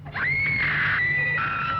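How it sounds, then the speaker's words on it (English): A single long, high scream sustained for almost two seconds, loud and up close, with a slight waver and a low hum underneath, part of a spooky horror show trailer. "Practice your screams."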